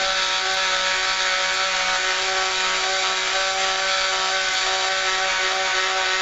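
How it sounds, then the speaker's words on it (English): A Dremel buffs and polishes a 1911 pistol part at medium speed, a loud, continuous, steady high whine running throughout with no pauses. "just let the Dremel do the work and just buff it out."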